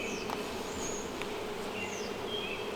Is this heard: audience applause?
no